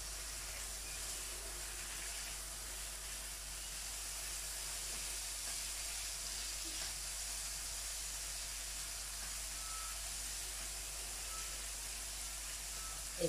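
Prawns and greens sizzling in a pan, a steady, even hiss of frying that continues unbroken and fairly soft for the whole stretch, with no voices.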